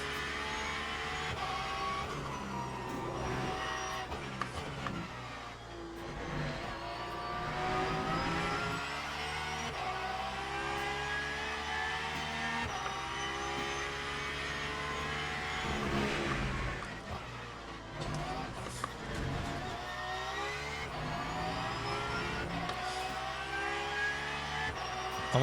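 Race car engine in the sim racing game Le Mans Ultimate, revving up and down through gear changes as the car slides through corners, a continuous buzzing whine at moderate level.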